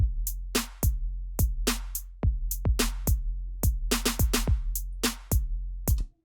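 A drum loop programmed in Ableton Live: punchy kicks with deep low thumps and crisp snare hits in a steady syncopated groove, about a dozen hits over six seconds, dry and upfront with no talking.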